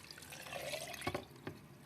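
Spring water poured into a mason jar, making a soft continuous splashing fill at close range with a couple of brief louder gurgles, and no one talking.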